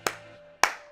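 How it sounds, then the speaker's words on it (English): Two sharp, close hand claps come about half a second apart, with a faint steady hum behind them. "Stop your incessant clapping and read."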